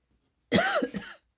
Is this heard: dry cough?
yes